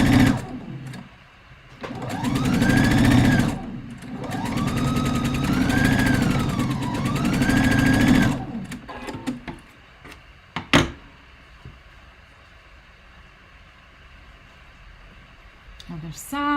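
A sewing machine stitches a robe jacket in two close, steady mechanical runs with a whirring motor tone, separated by brief pauses, followed by quieter handling sounds and a little talk.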